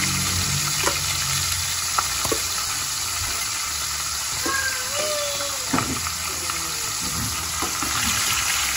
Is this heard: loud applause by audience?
no